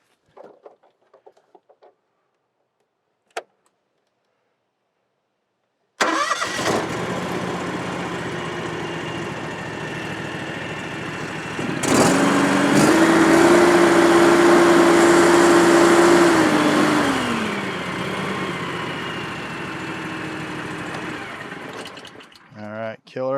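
A John Deere X739 lawn tractor engine cranks and catches, then idles steadily and close by, rising briefly to a higher, louder run before settling back, with a short burst of talk before it fires up.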